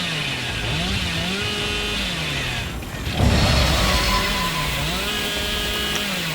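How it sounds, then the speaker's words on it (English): A chainsaw wielded by the Hillbilly killer in the video game Dead by Daylight drones and revs in a rising and falling whine, with a louder burst midway through, steady and close throughout. "when his chainsaw turns purple, it means you've been using it too much"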